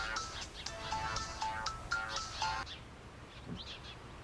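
Telephone ringing with a repeated electronic chirping tone in short bursts for about two and a half seconds, fairly faint, in a quiet outdoor setting while blackberries are being picked.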